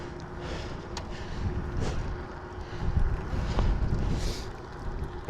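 Steady wind buffeting a microphone outdoors, a continuous low rumble with gusts swelling and easing, no voices.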